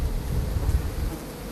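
Hornets buzz at a beekeeping farm where they prey on honeybees, a steady close insect drone over low rumbling wind noise.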